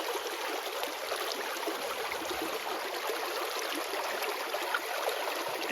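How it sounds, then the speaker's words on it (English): Creek water flows steadily in a continuous, even rush of broadband noise, moderately close and alone without voices, a creek that recently ran high after heavy rain. "Let's go take a quick look at the creek"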